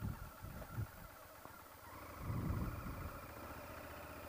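A Honda VTR1000 motorcycle engine idles steadily nearby, a low rumble with a slight swell midway and no voices over it.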